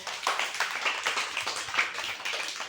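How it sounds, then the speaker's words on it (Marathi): Children clap hard and fast together in a group, a close, bright flurry of rapid claps that continues steadily without pause. "ज्यांना फोन करून नाही पाहिजे त्यांच्यासाठी जोरात टाळ्या वाजवा बरं"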